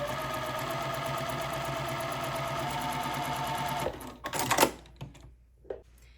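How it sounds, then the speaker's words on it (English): A sewing machine stitches a quilt block seam with a fast, steady mechanical whirring chatter that runs evenly for a few seconds, then stops, leaving faint clicks and handling noises. "we're going to put this in our sewing machine"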